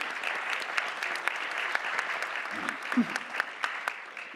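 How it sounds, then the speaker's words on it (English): An audience at an annual education debate gives a round of applause for a speaker, steady moderate clapping heard from a distance, with a brief voice murmuring underneath. "So a big round of applause for Yay"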